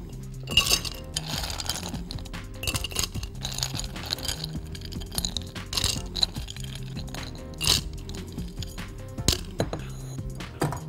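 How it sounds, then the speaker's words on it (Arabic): Ice cubes dropped one after another into a glass over ginger make repeated close, bright clinks and knocks, loud and irregular, with no talking. "هنزل بالجنزبيل، هنزل عليه بالتلج،"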